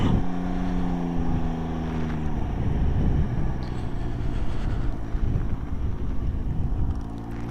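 A 2019 Can-Am Ryker 900 three-wheeler engine hums close by while reversing slowly, its tone dropping slightly after a few seconds and then rising again at the end, with outdoor wind noise and no speech.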